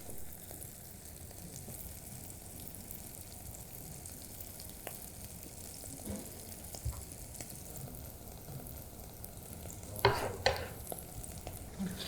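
A sofrito for paella valenciana frying gently in the pan, with a faint continuous sizzle and occasional stirring scrapes and clinks, a couple of sharper clatters near the end.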